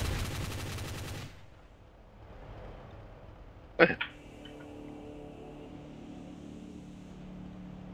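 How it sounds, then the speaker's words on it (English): After a fading rumble, a single sharp explosive crack bursts out mid-clip in a blocky multiplayer shooter game, followed by a lingering low engine-like drone. "I'm hearing explosions again."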